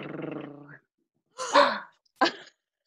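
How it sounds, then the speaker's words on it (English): A voiced, growly sound is followed by two short, sharp barks, with brief gaps between them. "Clyde is barking for you"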